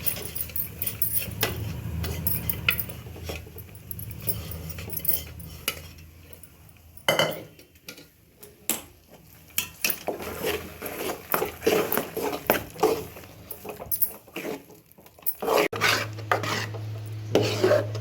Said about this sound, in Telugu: సిమ్లో పెట్టుకొని తిప్పుతూనే ఉండాలి, లేకపోతే అడుగంటుతుంది